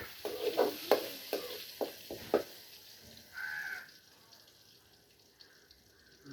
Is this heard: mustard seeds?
yes